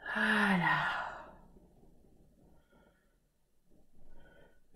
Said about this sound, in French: C'est bien baillé